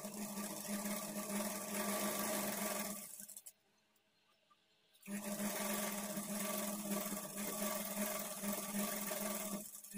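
A sewing machine stitches a quarter-inch folded edge on blouse fabric, running steadily and fairly close, stopping briefly for a pause of about a second and a half before resuming its continuous hum.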